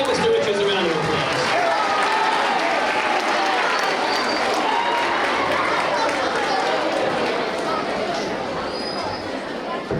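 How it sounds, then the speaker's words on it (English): A school audience at a middle school awards ceremony claps steadily for a teacher coming up to present. The clapping is dense and even and fades slightly toward the end. "Let's give Mr. Richards a round of applause."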